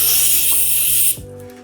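A short, steady hiss of compressed air blown from a trigger-controlled compressor nozzle onto the rear element of a Nikon 105mm lens, loud and close, cutting off sharply after about a second.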